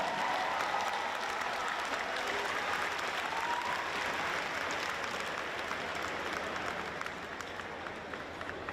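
Sustained applause rises from the audience at a high school commencement ceremony. The clapping is even and distant, filling a large hall, and fades a little toward the end.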